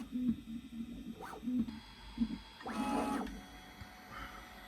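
A 3D printer laying down soft TPU filament through a hardened steel nozzle on a bottom layer. Faint stepper-motor whirs and short tonal buzzes come and go in irregular bursts, close and quiet.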